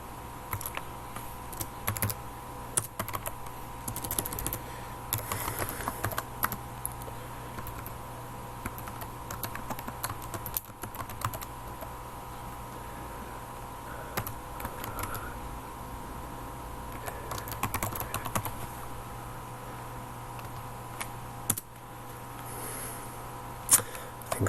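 A redirect URI being entered on a computer keyboard: a steady run of close, crisp key clicks and taps, with occasional brief pauses and heavier strokes, and no voices.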